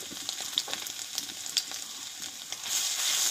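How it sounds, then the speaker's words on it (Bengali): Crushed ginger, chopped green chilli, turmeric and a five-spice tempering fry in hot oil, giving a steady close sizzle with scattered pops and crackles that swell louder toward the end. "দিয়ে আদাটা একটু ভালোভাবে ভেজে নেব আমি"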